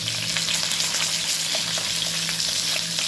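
Stuffed capsicum peppers fry in a pan as they are turned, giving a close, loud, continuous sizzle with small scattered crackles throughout.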